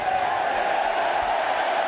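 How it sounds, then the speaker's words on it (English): A big crowd at a cricket stadium gives a loud, sustained cheer that fills the whole short moment. "And a big cheer, as you'd expect."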